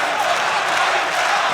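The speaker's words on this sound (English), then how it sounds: "The crowd is woken up already here." A crowd at a K-1 kickboxing event in Milan roars and cheers in a dense, steady wash of noise that stays loud throughout.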